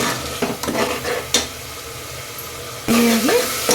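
Onion, ginger and garlic fry in oil in a pot for a village-style country chicken curry, with a steady sizzle broken by several scraping stirs and a brief clatter of utensils.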